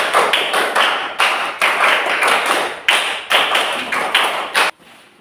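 A classroom of pupils clapping hands in a counted rhythm: loud unison claps in three quick groups of three with short pauses between, ending in near silence, no talk.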